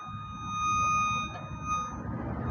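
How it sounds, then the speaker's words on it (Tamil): A steady, high electronic beep from a short circuit finder tracing live wiring holds unbroken for the whole stretch, ringing clear over a low background hum. "அது வரைக்கும் நமக்கு பீப் சவுண்ட் வரும்."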